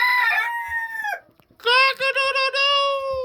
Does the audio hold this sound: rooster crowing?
yes